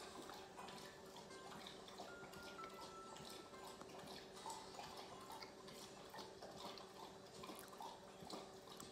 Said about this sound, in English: Sorry about the dog licking water noises.